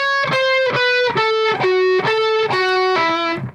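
An electric guitar with distortion plays a descending major pentatonic lick over a Christmas tune, about eight sustained, evenly spaced picked notes stepping down, loud and close with no talking.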